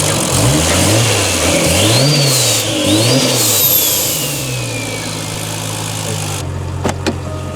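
A 2JZ car engine revs repeatedly in sharp surging bursts through the exhaust, then settles into a steady idle before cutting off, loud and close.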